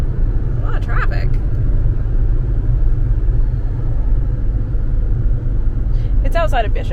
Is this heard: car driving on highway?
yes